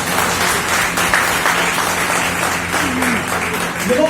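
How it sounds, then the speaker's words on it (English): An audience gives a round of applause for two teachers at a school or college event in India, with dense, steady clapping filling the room throughout and no voices rising above it. "I want everybody to have a big applause for Misra sir and Raj sir."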